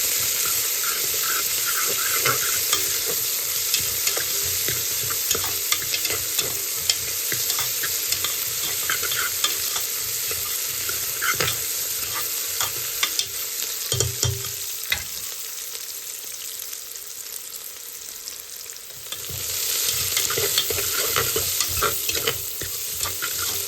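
Onions frying in a pan while being stirred, with a steady close sizzle and hiss and frequent scraping stir strokes running throughout, briefly easing near the middle before swelling louder again toward the end.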